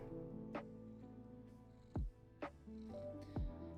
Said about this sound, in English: My cat has just jumped on my keyboard